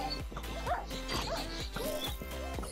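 Many Minecraft dogs bark and yip continuously in a crowded, overlapping chorus during a castle siege, loud and close with no pauses.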